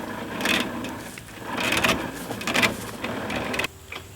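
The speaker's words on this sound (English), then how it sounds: "first I need to pull some winch cable" Winch cable being pulled off the winch on a Jeep, heard as rough bursts of rattling, scraping mechanical noise in several surges, fairly close, ending in a quieter stretch.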